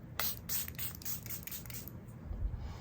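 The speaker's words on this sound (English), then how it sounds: "I wanted to try a setting spray" Several short hissing bursts of a makeup setting spray bottle in quick succession, close by, followed by quieter rustling.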